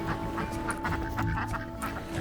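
Backyard female ducks, chatty breeds such as Pekins, quack in a steady, busy chatter of overlapping calls close by, with no talk over them.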